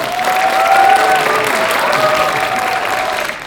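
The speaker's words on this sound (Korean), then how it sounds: "이렇게 박수 쳐주시니까 정말 감사드립니다" A cinema audience at an actors' stage greeting for a film screening gives steady, dense applause that fills the hall, loud and sustained, then slowly tapering off.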